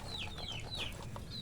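Large pet rooster, a red chicken, giving repeated short clucks and squawky calls close by, several bursts over steady farmyard background noise.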